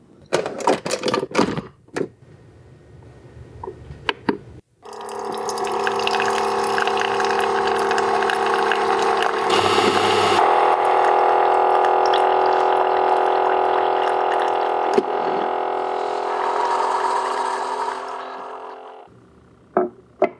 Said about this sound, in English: The sound of the Keurig is actually rather unpleasant.